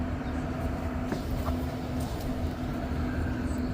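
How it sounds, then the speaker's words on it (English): An REM light metro train hums and rumbles at McGill Station, a steady low mechanical drone with faint clanks, moderately close, without talk. "Apparently this is only this train that decided to go on the other track here."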